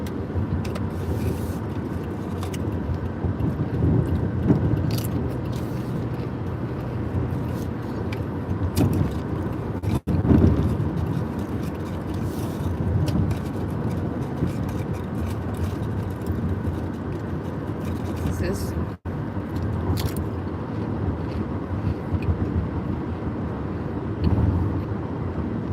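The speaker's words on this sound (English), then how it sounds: "Much traffic." Road traffic heard from inside a car driving through Dallas, Texas toward Plano: a continuous low rumble of engine and tyre noise, with occasional louder swells and brief clicks, and no talk.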